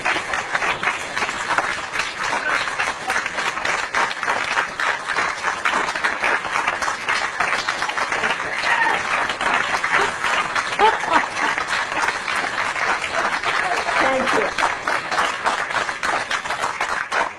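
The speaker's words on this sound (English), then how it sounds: "save the applause till the end" Audience applause fills a room: rapid, dense clapping with distinct individual hand strikes flickering through, fairly close and sustained for about seventeen seconds, with faint voices mixed in toward the end.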